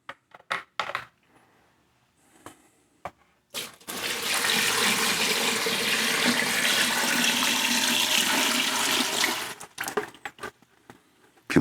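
Three liters of water poured from a tub onto bone dry clay trimmings, a steady close gush lasting several seconds after a few light knocks and clicks, ending in scattered drips and taps.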